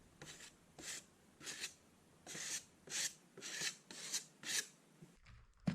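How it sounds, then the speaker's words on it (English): A knife cuts through plasterboard at a 45-degree angle with about eight rhythmic rasping strokes, close and fairly quiet, followed by a brief clunk at the end. "Cutting plasterboard on a 45-degree angle just to stop it falling into the wall."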